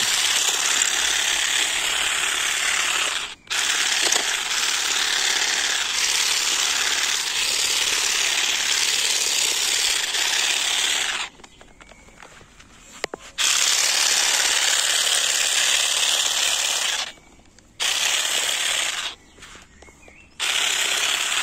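A Parkside mini hedge trimmer from Lidl, used as a lawn-edge trimmer, buzzes loudly and steadily, stopping briefly a few times between cutting passes with short quiet gaps.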